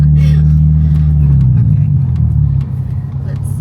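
Infiniti G35 fitted with a Flashark racing exhaust, its engine rumbling loud and close, with a steady low drone that eases off partway through and faint popping crackles on top.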